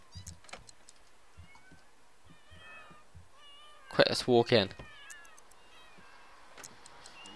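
A cat meows in The Sims 3, a loud burst of two or three close meows standing out in the middle, with a voice speaking briefly near the start and soft game sounds around.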